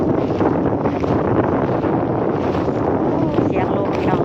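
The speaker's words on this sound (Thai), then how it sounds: "เสียงลมพี่น้องเลย" Wind gusts steadily and loudly across the microphone in a continuous broadband rush for several seconds, with no pauses or other clear sounds standing out.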